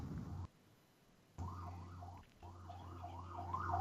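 Emergency vehicle sirens wail in a New York street ambience, rising and falling repeatedly, faint and distant at first and growing stronger toward the end.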